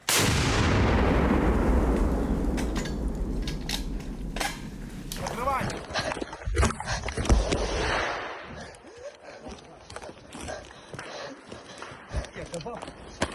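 A single loud, sharp artillery blast at the start at the war front in Ukraine, followed by a long rumbling decay and scattered clatter, with voices afterward.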